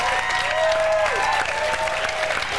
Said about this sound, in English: where's the applause where's for the stupid guy button?